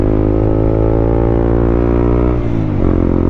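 Riding a Honda CB150X motorcycle: a steady, loud engine note close by that dips and shifts briefly near the end, like a gear change, before settling back into its drone.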